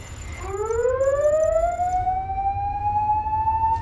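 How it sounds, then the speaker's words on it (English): A harsh, guttural klaxon alarm on a starship rises steeply in pitch and then holds a loud, sustained blaring tone over a low rumble. "The klaxon that sounded was not an elegant chime, but a harsh, guttural alarm designed to be heard through explosions and hull breaches"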